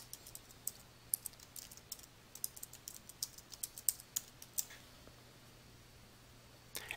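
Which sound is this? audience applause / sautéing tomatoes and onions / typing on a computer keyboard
typing on a computer keyboard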